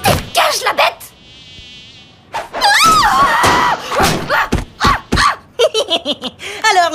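A cartoon spy-device fly buzzes in short bursts, with a whining hum between lively cartoon sound effects and a giggling voice.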